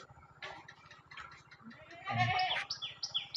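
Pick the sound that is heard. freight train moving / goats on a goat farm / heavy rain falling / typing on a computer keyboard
goats on a goat farm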